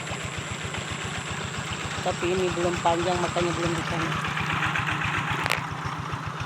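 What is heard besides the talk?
tractor engine working a rice paddy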